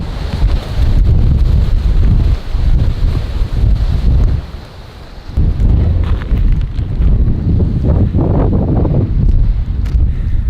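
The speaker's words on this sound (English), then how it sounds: "Super windy" Strong wind on a beach in Somalia buffets the microphone in heavy roaring gusts, with a brief lull midway before the blustering returns.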